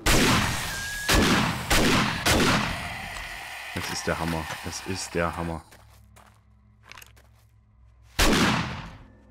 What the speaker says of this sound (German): Ein Schuss auf den Kopf und weg sind sie.